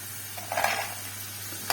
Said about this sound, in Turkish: Böyle kızgın yağda kızartalım.